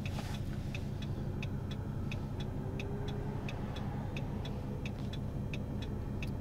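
A Ram 1500 truck with a 5.7 HEMI V8 drives along, its low engine rumble steady and muffled from inside the cab, while a regular faint ticking, like a turn signal, repeats throughout.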